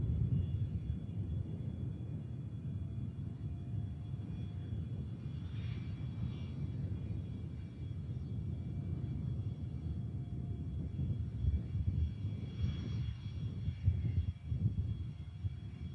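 A Pilatus PC-24 business jet at Manchester Airport, heard as a steady, distant low engine roar that holds evenly for the whole stretch with a slight swell near the end.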